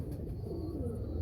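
Breeder pigeons of a red-eyed fancy strain in a Karachi loft give a soft, low cooing, steady and close, over a muffled background hum with no talking.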